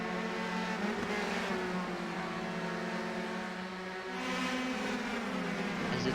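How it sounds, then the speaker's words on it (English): A race car on the outside line of the track drones past with a steady, buzzing engine note whose pitch dips and climbs, heard loud and continuous with no talk. "You can see the car is definitely going on the outside line, trying to get some speed up there."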